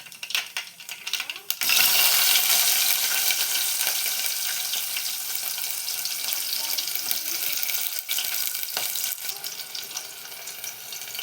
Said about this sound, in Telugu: ఆవాలు జీలకర్ర ఇలా కాస్త చిట్పట్లాడుతున్నప్పుడు మనం ఇందులోకి ఆనియన్స్ వేసుకుందాం.